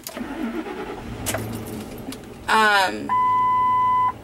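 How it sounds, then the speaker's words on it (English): A truck engine cranks and catches with a brief loud roar, then a steady electronic warning tone sounds from the dashboard, after some quiet cab noise and a few clicks. "so I'm going to start up my engine here"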